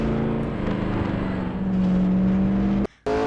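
A Porsche 963 LMDH race car in a racing game at Spa roars under throttle with a steady high engine drone and rising pitch, then cuts sharply to near silence on braking before the engine picks up again; no talk.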